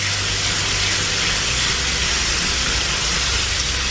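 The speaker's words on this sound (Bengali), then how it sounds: "চিংড়ি মাছগুলো দিয়ে দিচ্ছি। চিংড়ি মাছটা একটু ভেজে নিব।" Shrimp sizzle in a pan with cooked-down spices for a Bengali shrimp and Malabar spinach dish, a loud steady hiss of frying that carries on without a break and without talk.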